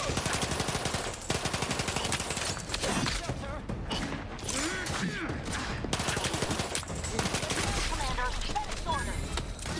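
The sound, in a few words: gunfire in video game The Outer Worlds 2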